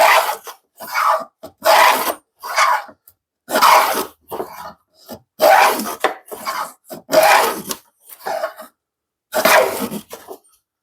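Repeated rasping strokes of a rabbet plane shaving wood, each pass a coarse scraping burst separated by short pauses, close and fairly loud.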